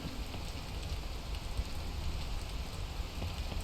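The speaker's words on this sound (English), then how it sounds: "Rain won't slow me down just yet." Steady rain falls in a mountain climbing video game, a dense, even hiss of drops that continues unbroken throughout, with no voice over it.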